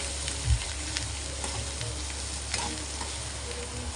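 Potato bhaji for a fasting meal being stirred with salt and crushed peanut powder, a steady soft scraping and light sizzle close by, with a brief louder knock of the spoon near the start and no talking.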